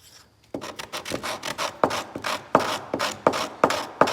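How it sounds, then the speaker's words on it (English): A wooden pigeon perch piece is rubbed back and forth by hand against a surface, producing repeated rasping scrapes in a steady rhythm, about a dozen strokes, close and fairly loud with no talking. "I find it easier to lay it down and rub the piece back and forth."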